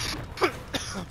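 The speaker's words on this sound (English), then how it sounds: "Stop coughing" A person coughs twice in short, sharp bursts close to the microphone, against a steady background hum during an online shooter game session.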